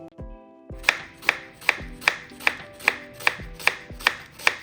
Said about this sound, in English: First, I'm chopping some onions.